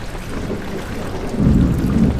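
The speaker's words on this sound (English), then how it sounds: "It's raining outside." Steady rain hisses under a deep, rolling rumble of thunder that swells louder partway through, from the video game Stardew Valley.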